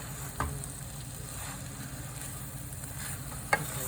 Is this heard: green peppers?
yes